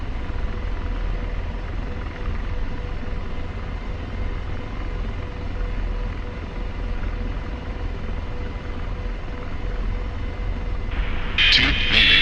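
AH-64 helicopter in the flight simulator DCS drones steadily with a low rotor rumble, constant and close, with a brief burst of radio crackle near the end.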